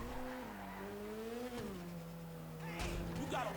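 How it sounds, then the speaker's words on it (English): Sentinel Classic sports car in GTA V, modeled on a BMW 3 Series E30, its engine note rising and falling steadily through gear changes, ending with a brief burst of tire squeal up close. "This is the Sentinel Classic, which is based on a BMW 3 Series E30."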